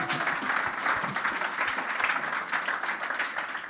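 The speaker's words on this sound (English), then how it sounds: "I want everyone to give you a hand of applause for being here after what you did" Applause from an audience fills the space, steady and dense clapping throughout at a moderate distance, with no clear speech over it.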